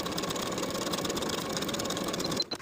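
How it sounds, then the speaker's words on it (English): A sewing machine runs in a steady, fast continuous whir as a pocket is stitched onto a skirt for a shirtdress, then stops abruptly with a few brief clunks at the end. "Sew the pocket to the skirt with a 3/8 inch seam allowance."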